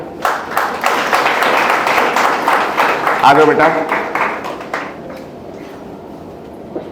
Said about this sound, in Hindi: जब बच्चे का नाम ले तो बहुत जोरदार ताली बजनी चाहिए